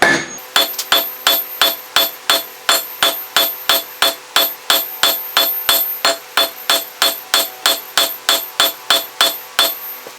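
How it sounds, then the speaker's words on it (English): Rapid, evenly spaced hammer blows ring out on hot steel being flattened into a leaf shape for a wall hook, loud and close, a ringing strike repeating about three times a second. "hammer it flat"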